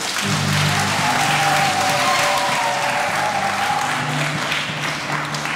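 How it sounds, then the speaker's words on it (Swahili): A church congregation applauds Cardinal Rugambwa, with loud, sustained clapping from many hands filling the space, steady throughout with no voices standing out. "Naomba tumpigie makofi."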